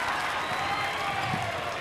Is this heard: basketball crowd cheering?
yes